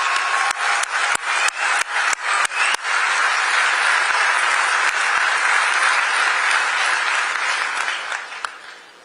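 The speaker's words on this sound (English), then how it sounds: "Bienvenida también y un gran aplauso a la Presidenta de México, Claudia Sheinbaum." A large ceremony audience at the Kennedy Center applauds for the President of Mexico, dense steady clapping with a few sharp claps at the start, fading slightly before the end.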